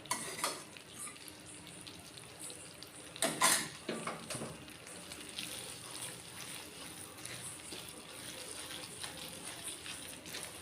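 Ghee is poured into a Mysore pak mixture cooking in a pan and stirred in. A steady frying sizzle runs throughout, with a sharp metallic scrape of the utensil against the pan partway through.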